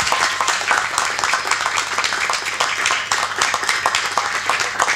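An audience gives a warm round of applause to thank a speaker after a talk on the secrets of the mind. The clapping is close, lively and uneven, with individual sharp claps standing out from the steady roar.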